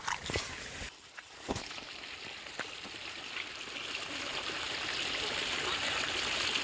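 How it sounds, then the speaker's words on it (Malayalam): Flowing water rushes steadily, a soft broadband hiss of a stream, with a few faint knocks early on. "ഞാനേ നിങ്ങൾക്കൊരു പുഴ കാണിച്ചു തരുന്നു"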